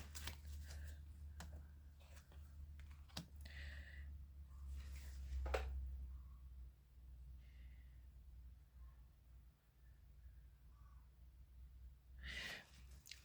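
A tarot deck being cut and shuffled by hand, a faint sequence of soft card riffles and taps with quiet breaths between, close and intimate in a hushed room.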